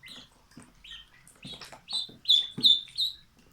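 High, thin panicked peeping calls from a young duckling repeat quickly and insistently, growing louder toward the end, with faint rustling underneath.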